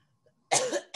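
After a quiet moment, a single close, harsh cough bursts out, followed quickly by the start of a second cough.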